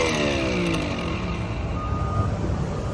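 A newly installed bow thruster spins up on a 37-foot Axopar boat, giving a steady close whirring drone with a rising tonal whine over a constant low rumble, without talk.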